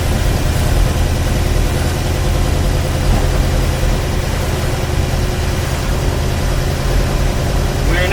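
A 1958 Studebaker Commander's engine running on the road, a loud, steady low-pitched rumble and drone with constant vibration and no pauses.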